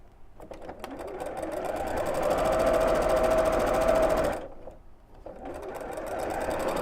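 A sewing machine stitching patchwork pieces together, its rapid motor hum building to a loud steady run, briefly stopping, then starting up again close by.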